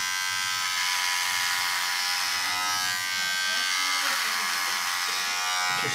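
Electric clippers shave a head, a loud, steady close-up buzz that runs unbroken throughout, with faint talking underneath.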